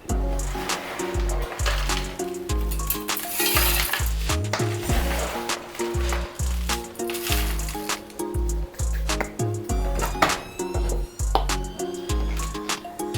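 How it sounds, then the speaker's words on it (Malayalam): A mixer grinder whirs in repeated bursts, grinding dried corn kernels into flour with a harsh, gritty rattling clatter, loud and close. "മിക്സിയിൽ എങ്ങനെയാണ് ഇതിനെയൊക്കെ ഒന്ന് പൊടിച്ചെടുക്കുന്നത് ഞാൻ കാണിച്ചു തരാം"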